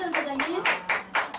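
Short bursts of hand clapping from an audience at an awards ceremony break out in quick waves between moments of speech.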